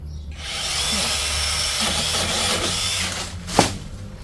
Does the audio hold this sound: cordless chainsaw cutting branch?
yes